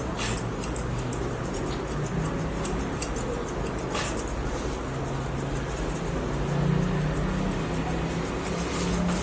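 Grooming scissors trim a Maltese dog's coat in rapid, light snipping clicks, close and fairly faint over a steady room hum, with no talk.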